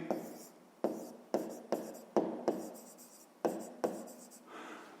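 Pen writing on paper during a fifth-grade math lesson, a series of about eight scratchy strokes, each starting sharply and trailing off, close and fairly quiet with no talk.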